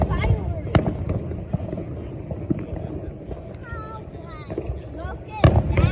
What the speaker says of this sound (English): Guys, look at this firework.